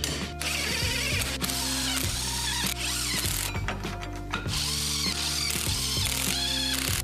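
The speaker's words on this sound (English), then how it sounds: "now I can install the U-bolts and plates" A ratchet clicks repeatedly while U-bolts and plates are tightened on a heavy Suzuki axle in its mounting seats, with quick pawl bursts and short pauses, close and fairly loud, with no talking.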